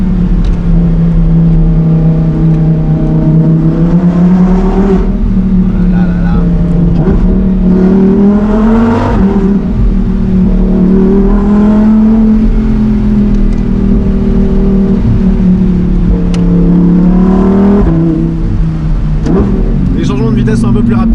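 A Lamborghini Huracán Performante S engine pulls hard through rapid gear shifts, its loud, steady drone rising and dipping in pitch with each change, with talking over it throughout.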